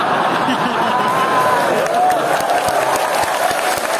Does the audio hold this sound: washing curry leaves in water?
no